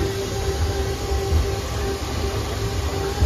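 A sightseer tram car rolls along in Wildwood Crest with a steady low rumble and rattle, fairly loud and close, a faint tone riding over the running noise.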